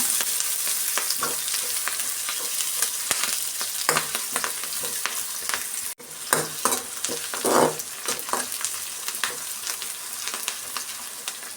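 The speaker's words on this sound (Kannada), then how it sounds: "ಕರಿಬೇವಿನ ಸೊಪ್ಪು ಸ್ವಲ್ಪ ಎಲ್ಲ ಆಯಿಲಲ್ಲಿ ಚೆನ್ನಾಗಿ ಫ್ರೈ ಮಾಡ್ಕೊಳ್ಳೋಣ" Curry leaves frying in hot oil in a pan for raw banana palya, a constant crackling sizzle broken by spatula scrapes and stirring taps, moderately loud and steady.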